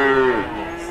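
A single loud, close moo from a heifer at the Rogojampi cattle market in Banyuwangi, a deep drawn call that slides downward and trails off.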